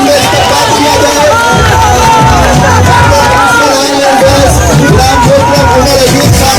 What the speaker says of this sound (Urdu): تالیوں کی بھرپور گونج میں استقبال کیا جائے